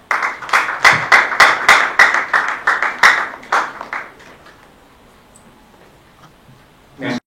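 Audience applause welcoming the Italian ambassador on his visit to ISPT Kinshasa: a loud burst of rhythmic clapping from a near crowd that tapers off after about four seconds, followed by near silence and a short final noise.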